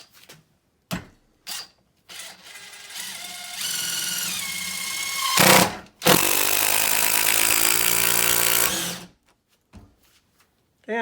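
A Festool TID 18 cordless impact driver sinking a 2.5-inch decking screw into dense Osage orange wood: short motor bursts, then sustained loud rapid hammering in two long runs, close up and without speech.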